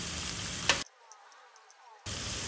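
Potatoes and carrots fry in a pan for chicken curry, giving a dense broadband sizzle that cuts out abruptly for about a second with a faint clink, then comes back as strong as before.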